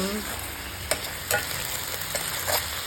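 Garlic butter shrimp and crab (alimasag) fry steadily in a pan, a constant sizzle with a few louder stirring scrapes over it, close and even, with no talking.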